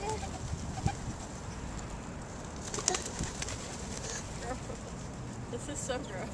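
Pigeons coo softly outdoors while being fed, low burbling calls with occasional wing flaps and rustles beneath steady background noise.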